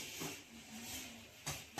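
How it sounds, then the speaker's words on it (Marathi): Water at a full boil in a cooking pot, ready for besan gatte dumplings, gives a soft steady hiss and bubbling, quiet and without speech. "आपलं पाणी उकळलं आहे"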